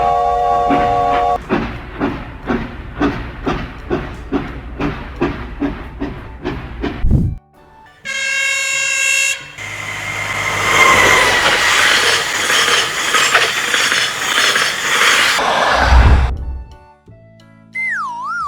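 A train rolling along the rails, with steady rhythmic clickety-clack beats from the wheels, then a loud sustained rumble of passing cars and a horn-like tone, close and loud.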